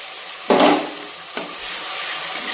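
Tomato and chilli frying in a pan give two sharp bursts of hissing sizzle as they are stirred, then settle into a steady, close sizzle with no talk.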